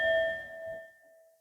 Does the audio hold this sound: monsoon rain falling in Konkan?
no